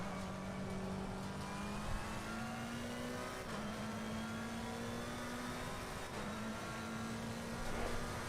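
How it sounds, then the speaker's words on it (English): Race car in a racing video game accelerating out of a corner at Kyalami, its engine note climbing steadily through gears as a sustained, fairly quiet drone with no voices. "Accelerate out as fast as you can."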